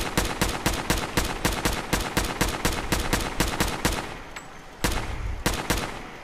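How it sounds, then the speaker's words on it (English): Laser assault rifle fitted with an improved sniper barrel and an extra-projectile effect, firing in Fallout 4: a fast, evenly spaced stream of sharp shots for about four seconds, a brief pause, then a few more bursts. "every time I shoot, you know, two lasers are coming out"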